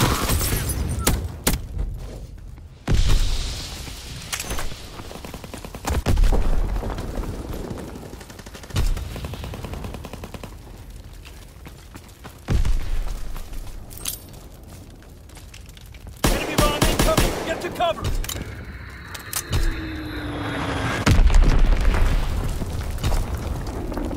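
Artillery explosions and bursts of gunfire in a Call of Duty WW2 team deathmatch, with repeated heavy booms and rattling volleys of rifle and machine-gun fire recurring every few seconds, loud and chaotic, with quieter gaps between.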